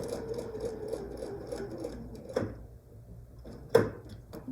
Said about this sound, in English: I'm just going to sew right off the edge here.